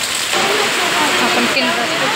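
Rain pours at a Shree Swami Samarth temple centre, a loud, even hiss of falling water with a voice speaking faintly beneath it.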